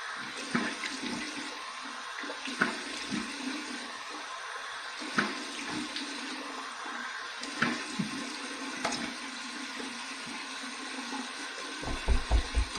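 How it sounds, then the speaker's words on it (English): Cold water runs from a bathroom tap for a rinse after shaving, a steady splashing flow with intermittent clinks and handling noises, fairly close and without talk. "Just switching it to the cold water, waiting for the cold water."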